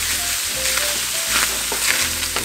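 Onions browning in a pan, giving off a loud, close, continuous sizzle and crackle with occasional stirring noises.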